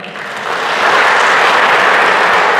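A crowd claps, the sound swelling over the first second into dense, steady applause that stays loud to the end.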